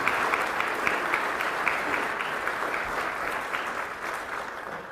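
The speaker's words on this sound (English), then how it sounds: "Let's give our employees a round of applause for that." Steady applause from an audience at a city's state-of-the-city address, a dense, even wash of clapping that holds for several seconds and fades slightly at the end.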